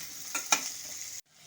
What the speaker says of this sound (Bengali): এখন আমি আঁচটাকে মিডিয়ামে দিয়ে রসুন পেঁয়াজ আদাটা ভালো মতো করে একটু ভাজা ভাজা করে নেব